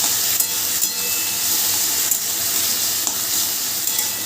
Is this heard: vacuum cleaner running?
no